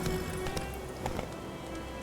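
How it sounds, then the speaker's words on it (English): Horse hooves cantering in the video game The Witcher 3, a quiet run of soft clip-clop beats over faint ambient game sound. "Luckily, Geralt can always count on his horse, Roach, to help him with his travels"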